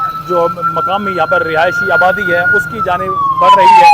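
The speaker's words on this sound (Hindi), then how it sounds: "बाकायदा सायरन भी यहाँ पर आपको आवाज़ सुनाई दे रही होगी" An armored police vehicle's siren wails steadily in a slowly falling tone through a residential area, sounding close and loud beneath a man's continuous news-report narration.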